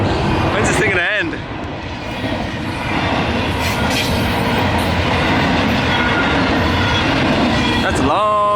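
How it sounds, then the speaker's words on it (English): A very long freight train rolls past close by on the Great Plains, a loud steady roar of wheels and cars with clickety-clack texture and brief squealing tones, continuing without a break. "It's about 2 minutes later and the train is still going past."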